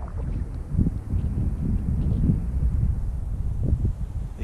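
Wind blows across the ice while ice fishing. It makes a steady low buffeting rumble against the microphone, with gusts swelling and easing and no talking.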